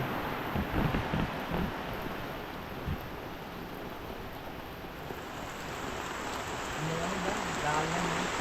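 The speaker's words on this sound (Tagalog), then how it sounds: "Isang iglap lang, bugsok na bugsok ang ulan." Heavy rain pours in a constant dense hiss, with faint voices murmuring beneath it now and then.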